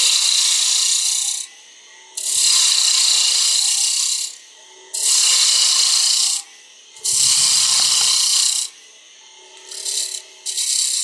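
A wooden base is trimmed down on a lathe in bursts of harsh, rasping cutting, four or five loud passes separated by short quieter gaps, with no voices.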